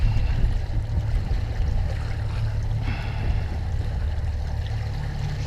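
Large outboard motor on a small fishing boat trolling at sea, a steady low droning hum with water wash around the hull, continuous and fairly close.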